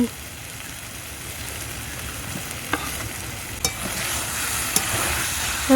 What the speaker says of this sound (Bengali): মশলার সাথে একটু কষাতে হবে এবার দিয়েছে আলু